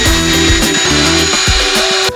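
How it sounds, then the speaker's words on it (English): A power drill fitted with a Robertson bit whirs loudly and up close as it backs out a panel screw, its motor pitch wavering through a few short bursts over about two seconds. "I have my power drill with a trusty Robertson's bit on the front of it."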